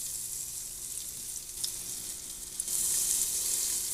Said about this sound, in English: We're going to add 1 tablespoon of butter into a saucepan that's been preheated on medium.